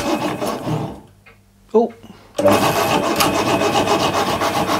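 A Kennedy Hexacut power hacksaw cuts a quarter-inch steel bar with a rough, rasping stroke. The sawing drops out briefly, a short exclamation breaks in, then the steady grinding resumes close and loud.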